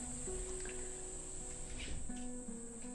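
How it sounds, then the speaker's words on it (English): Dense cicadas outside on a hot afternoon, a steady high-pitched hiss filling the air continuously, loud and unbroken throughout, with faint lower tones beneath. "there must be some kind of cicada season because they just kick in."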